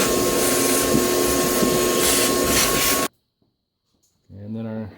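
Shop vac sucking debris from around the oil filter area of a 2005 Toyota Corolla engine: a loud, steady broadband roar for about three seconds that cuts off abruptly, followed by silence and then a lower-pitched whine as it spins up again.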